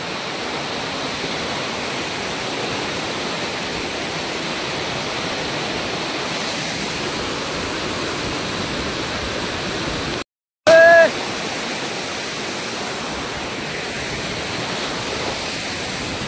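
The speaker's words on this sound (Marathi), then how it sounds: "सवतकडा धबधबा" Savatkada waterfall near Marleshwar roars with a constant, dense rush of falling water, a close, steady wash broken once by a brief dropout and a short faint whistle.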